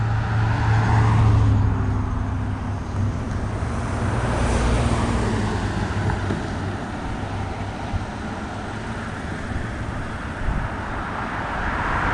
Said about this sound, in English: I got a car coming up behind me.